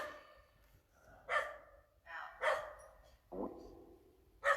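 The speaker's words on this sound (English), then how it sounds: "Why would a dog just randomly be in a cemetery at night?" A dog barks several times in a cemetery at night, sharp isolated yelps spaced a second or so apart against a quiet, faintly breathy background.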